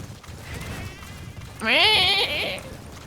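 A sheep in Metal Gear Solid 5 gives a loud, wavering bleat over a low background murmur, rising sharply and then fading.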